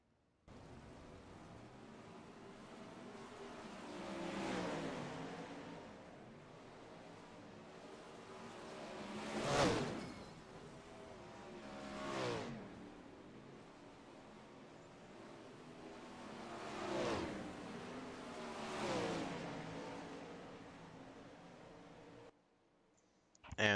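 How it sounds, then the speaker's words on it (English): Sprint cars with V8 engines racing at Eldora in a racing video game, a continuous engine roar that swells and fades as cars pass by in several distinct sweeps, fairly quiet overall. "I think this is a great time for us to hear the sounds of these sprint cars"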